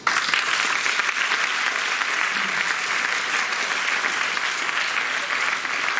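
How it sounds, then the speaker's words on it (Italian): An audience at an artistic evening gives a big round of applause, a continuous, full and even wash of many hands clapping at steady loudness throughout. "un grandissimo applauso."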